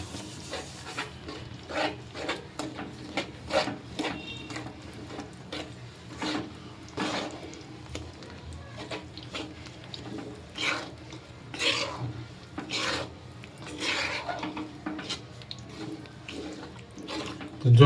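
Raw gum powder is stirred into roasted flour in a pan for gundar paak, giving repeated scraping and rubbing strokes of a spoon against the pan, irregular and close, with no talk.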